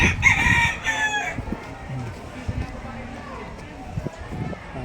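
A rooster crows at the start, then talking and rustling outdoor noise carry on in the background.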